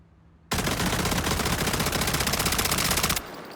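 A 40-round SMG in the game SCP: 5K fires one sustained full-auto burst of rapid, evenly spaced shots lasting about three seconds, loud and close, with no talking over it.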